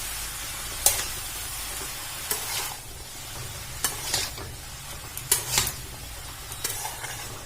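Boiled cabbage, seasoned with salt and turmeric, fries in a pan under a constant close sizzle, broken by repeated scraping stir strokes every second or so.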